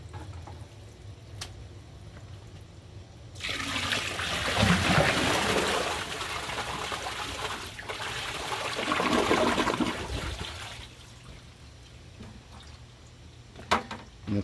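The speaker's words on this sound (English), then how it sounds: "when I first poured the water in, I tried to pour it specifically to cup the rag and get it started in the trapway" Half a bucket of water poured into an American Standard or Kohler toilet bowl holding a red microfiber rag, a steady rushing gush for several seconds that swells twice, then trickles off into quiet drips.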